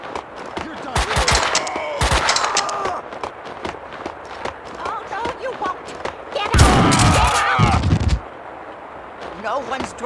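Gunfire in the Max Payne 2 video game: several loud, close bursts of rapid shots with sharp impacts, separated by quieter stretches, and a heavy sustained volley near the end.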